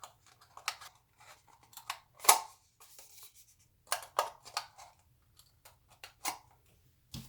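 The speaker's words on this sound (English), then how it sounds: "I'm just opting for my scissors" Scissors snip through craft material for a small wobbly robot build: a quiet, irregular series of short, crisp cuts with pauses between them and no talking.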